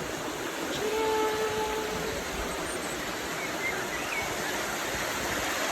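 River flowing beside a spot overlooking green mountains in Bulgaria, a steady broadband rush of water filling the scene, moderately loud and even, with a faint brief bird chirp.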